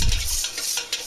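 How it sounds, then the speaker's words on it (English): A spoon stirs molasses into hot water to dissolve it, producing a short, close scraping swirl of liquid with a couple of brief clinks and no speech. "I'll mix it so it dissolves"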